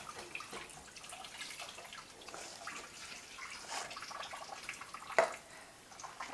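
A kitchen tap runs faintly and steadily to rinse a spoon coated in homemade smoke bomb mixture, with a brief sharp clink partway through.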